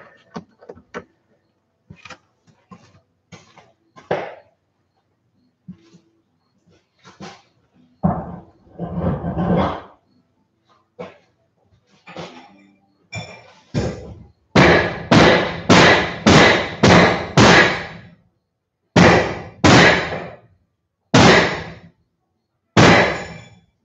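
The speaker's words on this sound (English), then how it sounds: "I'm gonna give this thing a whack with a hammer." A hammer whacks a bent metal bracket on a rat rod build, first scattered light taps, then a run of about six heavy, ringing blows in quick rhythm followed by a few more spaced strikes.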